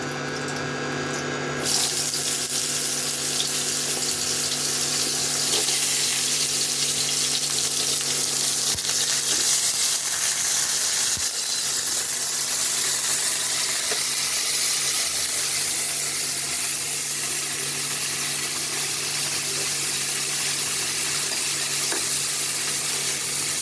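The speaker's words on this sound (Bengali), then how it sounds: "এখন আমি আরেকটু তেল দিয়ে উচ্ছেগুলো ভেজে নেবো ভালো করে।" Bitter gourd pieces frying in oil in a pan for a Bengali dudh shukto, a steady, fairly loud sizzling hiss that runs on unbroken for the whole stretch, with no voices.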